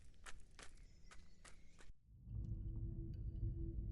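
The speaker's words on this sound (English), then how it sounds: "I hear the sound of faint footsteps behind me." Faint footsteps in a video game, set in an empty park in the early morning: a few soft steps in the first two seconds, then a quiet, steady ambient hum takes over.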